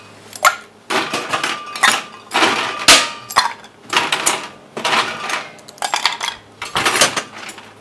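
Ice poured into a glass for a rye whiskey cocktail at a bar, giving several loud bursts of clattering, clinking cubes separated by short pauses.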